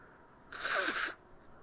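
A single sharp human sneeze bursts out of a quiet room, brief and fairly close, with faint background hum before and after.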